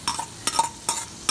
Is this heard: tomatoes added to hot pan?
yes